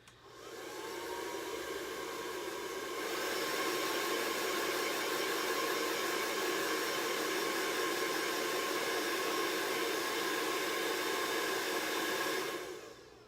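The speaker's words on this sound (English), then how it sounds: "I'm going to hit this with a blow dryer" A blow dryer set to cool runs continuously on a glass Christmas ornament, a loud, steady rushing whoosh that steps up in intensity after a few seconds and cuts off near the end.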